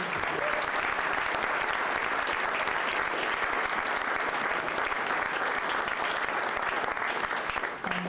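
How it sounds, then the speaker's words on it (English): A lecture audience applauds the speaker, Manuel D. Medina, at a distinguished lecture event with steady, dense clapping that stays loud and even for the whole stretch, fading slightly at the very end. "Let's give him a round of applause."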